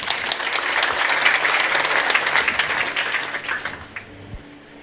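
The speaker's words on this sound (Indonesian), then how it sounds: "Beri tepuk tangan." Church congregation applauding during a Sunday service sermon, dense steady clapping from many hands that swells, then thins out and dies away near the end.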